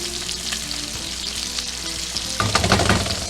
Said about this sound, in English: All right, now we're going to add the red onions.